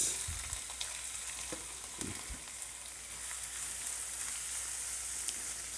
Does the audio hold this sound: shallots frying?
yes